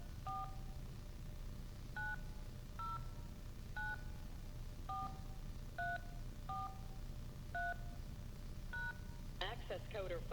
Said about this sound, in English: Please enter your access code followed by the pound or hash sign.